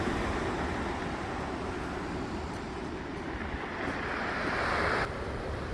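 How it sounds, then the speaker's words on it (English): Pacific Ocean surf a few miles north of Fort Bragg, California: a continuous broad wash of waves with wind rumbling over the microphone, loud and steady with a slight swell near the end. "That's the Pacific Ocean."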